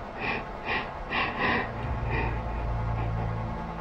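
Heavy, ragged breaths sound close to the microphone, several quick inhales and exhales in a row, followed by a low, steady hum.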